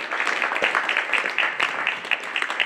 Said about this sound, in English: a big round of applause for all of these folks